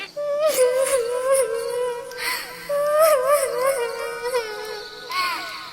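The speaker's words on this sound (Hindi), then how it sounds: "टुनटुनी को एक पेड़ के पीछे से किसी चिड़िया की रोने की आवाज आती है।" A cartoon bird cries from behind a tree in a forest, rising and falling wails that break into sobbing, whimpering phrases, close and fairly loud with no speech over it.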